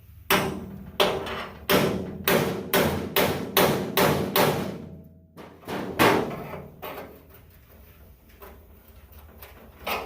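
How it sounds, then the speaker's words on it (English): Hammer whacks on the welded rear panel of a Willys MB jeep, struck to break off a chunk of weld, land in a fast, loud, metallic run of about a dozen blows, then a few scattered hits. "So I'm going to give it a couple more whacks."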